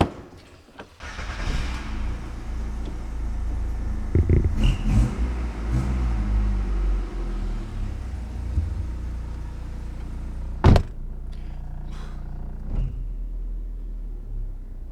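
A car engine with its rear muffler fitted runs with a steady, fairly subdued low rumble and exhaust drone, rising briefly in a louder burst partway through before settling back to an even hum.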